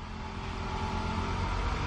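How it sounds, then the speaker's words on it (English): A 2010 Toyota Camry Hybrid with 154,910 miles revs with the throttle floored, a steady, loud, close engine drone and whir that swells slightly toward the end, no voices. "Listen to this horsepower. Revving."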